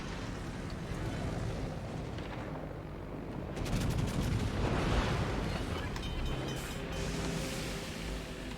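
Naval artillery booms and rumbles as the enemy battleship Kansas fires in World of Warships, a dense, loud continuous roar of heavy gunfire and impacts that swells in the middle of the clip.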